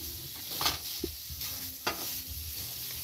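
A meat substitute sizzles steadily in olive oil in a hot frying pan, with a few soft scraping stirs breaking through the constant crackle.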